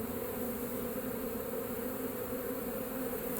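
Honeybees buzzing around a hive removed from a cinder block wall in Lakeland, Florida, a dense, steady drone from many bees, close and unbroken throughout.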